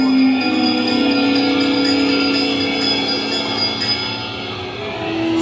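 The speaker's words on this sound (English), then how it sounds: "give us a hint by ringing a bell" A bell rings inside Disneyland's Haunted Mansion ride, a sustained metallic tone with lingering harmonics over the low hum of the ride, fairly loud and steady.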